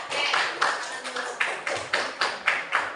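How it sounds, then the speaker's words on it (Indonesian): A classroom of students performs a rhythmic clap chant for a classmate, with sharp group claps landing in a steady pattern alongside chanted voices. "Caranya gini, tepuk hebat."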